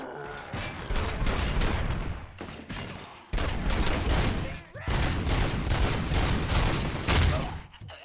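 Bursts of SMG fire with exploding rounds in Robocop: Rogue City, loud sustained volleys broken by short pauses, with booming impacts mixed into the shooting.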